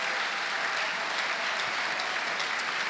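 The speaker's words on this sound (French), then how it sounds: "Oh, acclame le Seigneur de gloire." A church congregation applauds steadily through the whole stretch, a dense, loud wash of clapping hands with no pauses or talk over it.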